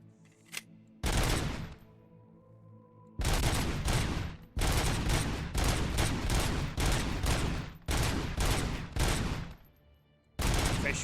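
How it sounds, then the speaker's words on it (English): Heavy automatic gunfire in RoboCop: Rogue City rips through shop mannequins in a mall, loud sustained bursts separated by short pauses, with a few quieter single shots at the start and no talking. "I'm going to shoot them all because I don't like them."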